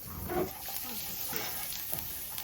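Garlic frying in olive oil and being stirred in a pan, a soft steady sizzle with light scraping strokes, moderately close, without talk.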